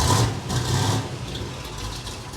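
A newly installed 327 hot rod V8 engine idles steadily in a car, throaty and fairly close, with a low, even rumble throughout.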